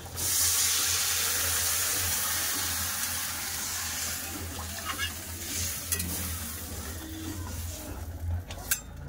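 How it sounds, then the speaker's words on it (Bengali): Water poured onto radish frying in a pan sets off a loud rush of hissing that gradually settles into a quieter bubbling sizzle, with occasional spatula scrapes and clinks near the end. "এবার দিয়ে দেবো জল।"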